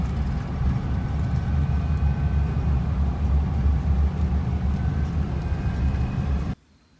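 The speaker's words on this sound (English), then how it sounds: "A few cars go by every now and then." Cars pass on a quiet rural road by a creek property, heard as a steady low rumble of tires and engines that holds for several seconds before cutting off abruptly, no talk.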